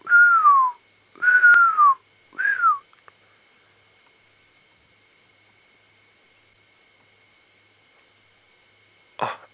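A wild bird at dusk on a safari drive gives three clear descending whistles in quick succession, followed by silence and one faint brief note near the end, heard alone without any talk.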